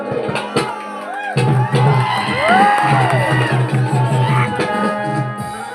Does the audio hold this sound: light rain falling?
no